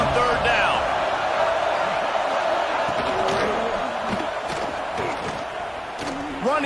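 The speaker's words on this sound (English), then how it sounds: "Decibels rising as the crowd gets behind this defense on 3rd down." A stadium crowd cheers on third down in a college football video game, USC at home against Michigan State, a broad, steady roar of crowd noise running the whole time beneath a commentator's voice.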